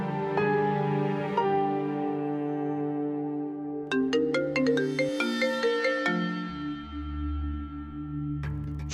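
A melodic phone ringtone plays, a looping electronic tune with bright chiming notes and a steady rhythm, loud and close with no voices.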